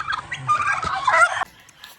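Turkeys gobble loudly and close by on a farm, a rapid warbling burst that breaks off abruptly, followed by fainter calls.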